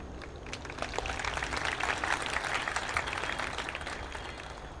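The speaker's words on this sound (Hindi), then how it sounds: "किसकी तालियां बजाई?" Audience clapping at a spiritual discourse gathering, a steady dense patter of many hands holding level for several seconds, moderately distant with no talk over it.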